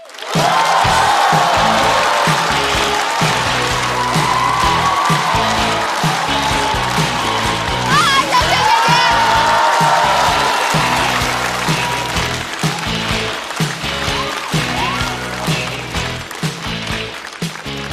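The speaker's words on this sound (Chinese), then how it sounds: "掌声欢迎小雪。" An audience at a stand-up comedy show applauds and cheers to welcome a comedian, a loud, sustained wash of clapping and crowd noise that slowly tapers off.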